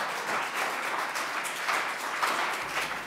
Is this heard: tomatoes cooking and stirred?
no